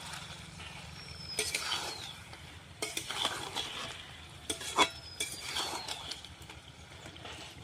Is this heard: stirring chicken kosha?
yes